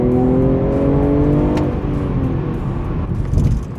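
A BMW M340i's engine and exhaust rise in pitch as the car accelerates hard from inside the cabin, a loud, steady climbing drone with a brief shift blip partway through and no talk.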